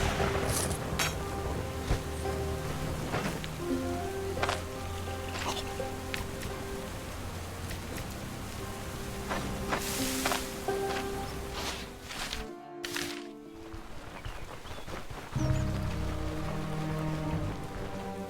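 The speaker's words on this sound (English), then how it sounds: "we had a nice bit of exploration in the rain" Rain pattering steadily through a forest in the action RPG Hilda 2, a constant wash of drops beneath layered game music and occasional clinks, with a brief dropout near the end before the rainfall resumes.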